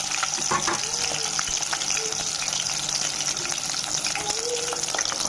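Boiled eggs frying in two tablespoons of oil in a kadai on a stove, a continuous crackling sizzle with scattered pops and light stirring clinks throughout.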